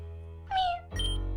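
Mew's cry in the Pokemon Insurgence video game, a short, high, bright electronic meow-like call over a steady game music bed, followed by another louder tonal chime.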